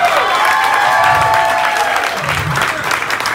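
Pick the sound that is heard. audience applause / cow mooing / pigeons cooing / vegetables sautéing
audience applause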